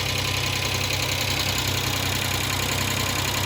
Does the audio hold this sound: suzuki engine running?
yes